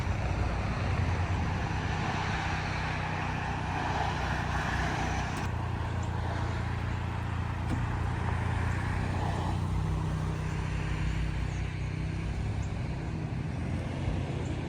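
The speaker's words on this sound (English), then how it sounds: "White car is about to leave." A white car is driven away from a home by a collection crew. Its engine and road noise give a steady, moderately distant rumble that holds for the whole stretch, with no talk over it.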